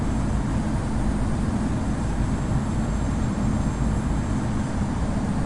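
Airbus A321 airliner in American Airlines livery on final approach to Los Angeles in the Infinite Flight video game, a steady broadband engine roar with a faint whine, continuous and even throughout with no talk.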